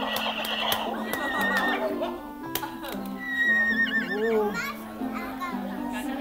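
A horse neighs during a Spanish children's farm story, with high wavering whinnies standing out midway over a bed of children's voices and background chatter.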